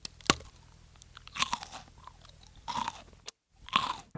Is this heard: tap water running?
no